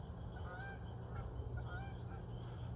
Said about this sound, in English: I don't know if y'all can see the geese and hear them.